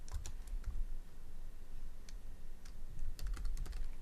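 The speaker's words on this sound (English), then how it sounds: "Never mind my bad typing." Typing on a computer keyboard while building a XAML app interface, quiet irregular clicks in short clusters with pauses, close and soft over low background hiss.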